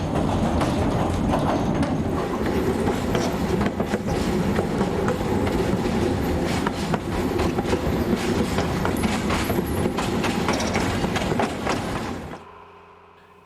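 Hungarian narrow gauge train running along the rails, a steady loud rumble with rhythmic clatter of wheels over joints, close by and without talk, fading out abruptly at the end.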